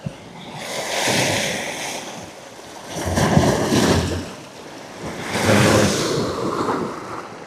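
An incoming tide surges against a harbour wall in three broad swelling rushes of water, each building, cresting and falling back, loud and close with some wind noise and no speech.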